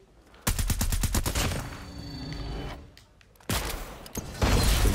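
Rapid automatic gunfire from the EM2 Mythic rifle in Call of Duty Mobile rings out in loud, close bursts: a fast rattling volley, a pause, then more shots with a brief mechanical clack in between.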